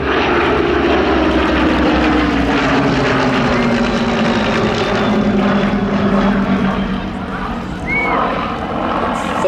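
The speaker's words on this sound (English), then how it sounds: "So the lead aircraft, the Mark V, was built in 1941 and had an operational frontline career spanning almost 4 years." A Supermarine Spitfire Mark V built in 1941, flying at an air festival with the Battle of Britain Memorial Flight, gives a loud steady propeller-engine drone that shifts slowly in pitch as it passes overhead, with no voices over it.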